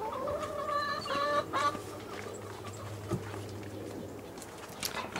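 Hens cluck and squawk in an outdoor chicken run on a half-acre off-grid property, several birds calling over a steady hum and background noise, with one louder squawking burst early on and scattered cackles throughout.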